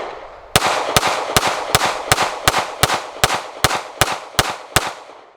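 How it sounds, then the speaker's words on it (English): A KelTec PR-3AT pocket pistol fires a full magazine, twelve sharp, loud reports in a fast, steady rhythm about a third of a second apart, each with a brief echoing tail and no talking. "Just going to mag dump this. These are the first shots."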